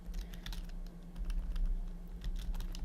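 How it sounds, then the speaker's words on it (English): Keys clatter on a computer keyboard as a command is typed, a quick irregular run of light taps over a low electrical hum. "Then I'm gonna type apt-get"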